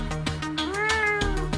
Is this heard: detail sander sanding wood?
no